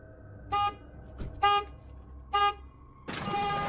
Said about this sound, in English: before he can snatch any valuables, the car alarm goes off